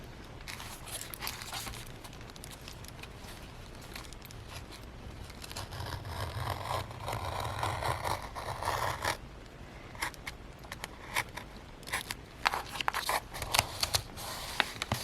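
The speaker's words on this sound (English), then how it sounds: "I'm just going to cut that because I have my piece of cardboard underneath there." Scissors snip steadily through paper laid over a piece of cardboard, a run of close, crisp cuts with rustling between them during the making of a shabby chic junk journal folio page.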